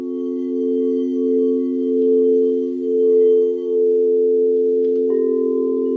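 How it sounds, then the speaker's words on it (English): Pure, sustained ringing tones from tuning forks hum steadily and clearly, with a gentle pulsing waver and a slight shift in pitch near the end. "So I'm going to use the tuning forks now"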